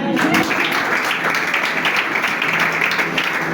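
A church congregation at a French-speaking service applauds, producing dense, continuous loud clapping throughout with a faint voice underneath.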